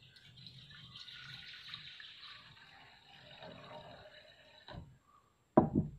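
Water runs steadily into a metal puttu steamer pot for several seconds, a soft hollow trickle that stops, followed by a brief clatter.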